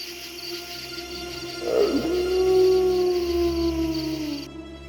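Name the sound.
wolf howl in a Roblox game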